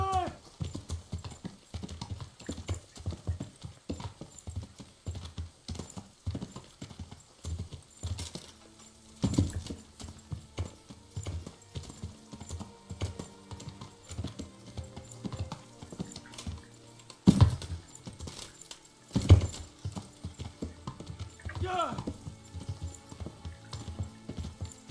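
A horse's hooves clip-clop in rapid rhythmic beats in the game Kingdom Come: Deliverance, moderately close, with a few louder thuds and brief pauses along the ride.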